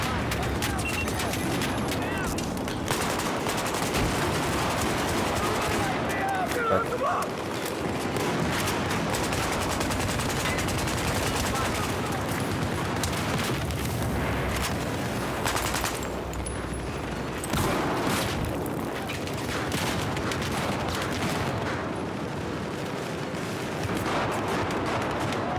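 Rapid bursts of video-game gunfire, sniper and rifle shots mixed with a frag explosion, crackle loud and dense throughout, with brief lulls between volleys and a voice talking in places.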